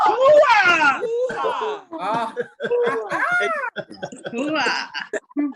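People imitate cat calls with high, wavering meow-like voices, several in a row, mixed with laughter and chatter.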